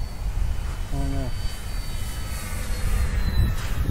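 A Dynam Pitts Python electric RC airplane flies overhead, its steady motor whine droning for the whole stretch at moderate distance, with a brief harmonic tone near the start.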